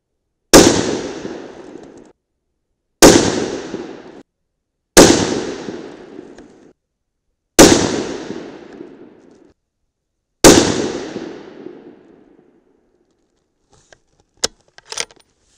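Five loud, sharp .308 Winchester rifle shots fire 208gr Hornady ELD loads a few seconds apart, each blast followed by a long ringing decay, then brief faint clicks and handling noises.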